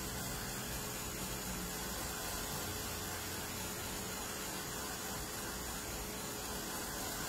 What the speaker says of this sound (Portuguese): eu vou secar isso com o secador